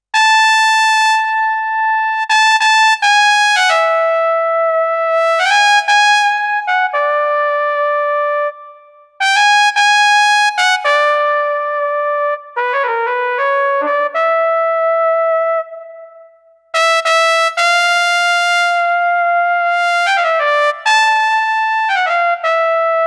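A bright, brassy trumpet tone from a Roland Aerophone AE-20 digital wind instrument playing a melodic phrase with sustained notes and short runs, loud and alone with brief pauses.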